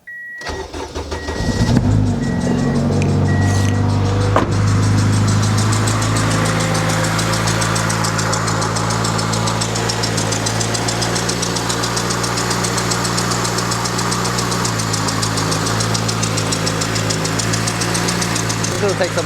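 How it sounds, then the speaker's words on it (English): A car engine idles steadily up close for nearly twenty seconds, a low hum with a persistent whining drone from the power steering pump layered over it, after a brief start-up burst at the beginning. "I'll test that if we still have that same noise coming out of the power steering"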